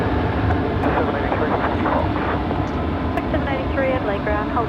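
Singapore airliner at Adelaide Airport spooling up its engines before pushback, a steady broad roar with rising whine, loud and constant throughout, with a voice talking over it.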